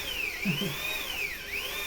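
A power drill whines steadily at close range, its high pitch sliding up and down as the speed changes.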